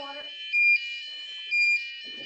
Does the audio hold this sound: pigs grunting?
no